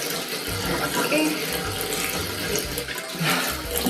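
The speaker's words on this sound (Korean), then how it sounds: "약간 온몸으로 세수하는 스타일 이런데 다 젖었네요" Water runs from a sink tap with loud, close splashing and irregular slaps as someone washes their face, with faint background talk.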